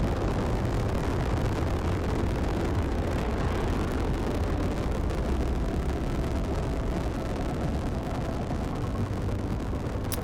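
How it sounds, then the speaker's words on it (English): A rocket lifts off in the factory-building game Factorio on a deathworld megabase: a steady, loud, dense roar with deep rumble, sustained without a break throughout. "Liftoff of our first rocket."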